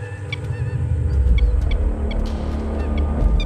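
Asian lapwing parents give loud, repeated sharp calls while mobbing a lizard near their nest, the cries layered over one another against a steady low outdoor rumble.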